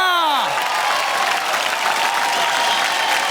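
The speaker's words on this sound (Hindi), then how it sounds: "एक बार जोरदार तालियों से स्वागत करिए सबरीना और विशायना का।" Studio audience on a television game show breaks into loud, sustained applause and cheering, a close, dense roar of clapping following a musical sting.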